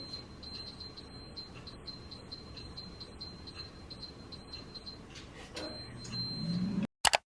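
An air fryer bakes an Oreo cheesecake at 250 degrees, its fan giving a steady, low whirring hum, with a few faint electronic beeps near the start and a clunk at the very end.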